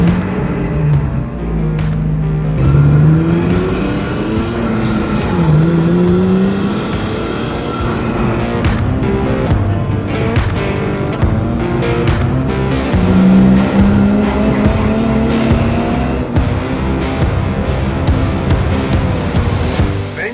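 A track-raced car revs hard with rising and falling engine pitch and squealing tyres as it skids, loud and close throughout with no voices.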